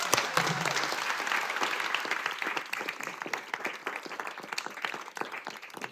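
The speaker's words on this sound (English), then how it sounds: "let's give everybody a round of applause." An audience at an environmental bill package announcement breaks into applause, loud at first and then thinning into scattered individual claps as it tapers off.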